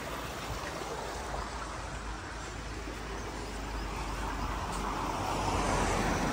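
Small stream flowing past a church, a constant broadband rushing and trickling wash that holds steady and swells slightly toward the end, with no voices.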